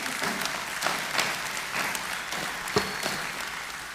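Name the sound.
applause for awardees at a ceremony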